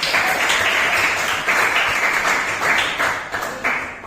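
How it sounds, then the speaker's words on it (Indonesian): A class of ninth-grade students applauding together in a classroom, a continuous, fairly loud patter of many hands clapping that holds for several seconds before thinning slightly at the end. "Tepuk tangan dulu buat kita semua."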